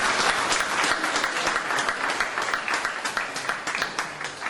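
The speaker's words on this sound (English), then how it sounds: "Again, that round of applause." A room full of people applauding at a WordPress business talk, steady dense clapping that holds throughout and tapers slightly at the end.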